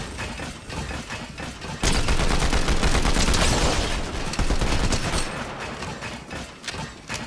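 Rapid automatic gunfire in the Fortnite video game aimed at shooting down a tree, a dense loud burst of overlapping shots that runs for several seconds after a brief quieter lead-in, then eases toward the end.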